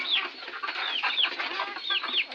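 Several chickens in a poultry cage cluck and squawk in quick, overlapping bursts, close by and fairly quiet, with no voices.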